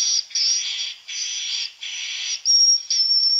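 Swiftlet calls recorded inside a swiftlet building, a run of loud, high chirping bursts repeating in quick succession with brief gaps, the last ones turning thin and whistle-like.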